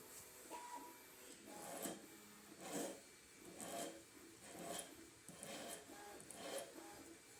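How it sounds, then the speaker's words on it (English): A hand file rasps across a bronze needle in a workshop, giving repeated back-and-forth strokes at an uneven rhythm, fairly close and moderately quiet, with no talking. "and then taking a file to it"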